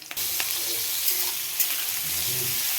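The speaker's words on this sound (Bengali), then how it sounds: "ভাজা হয়েছে এবার আলুগুলো দিয়ে দিই" Potatoes are tipped into a pan of lightly fried onions, setting off a sharp burst of sizzling that continues as a loud, even fry with occasional stirring knocks close by.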